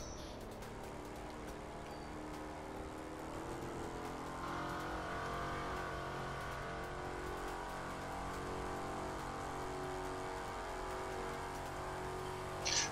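A car driving in the racing video game The Crew 2 during a Miami stage gives a steady engine drone that swells and holds at higher revs, alone without talk, ending with a brief louder burst.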